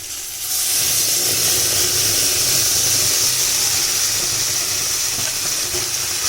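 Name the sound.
spinach paste added to frying spices, sizzling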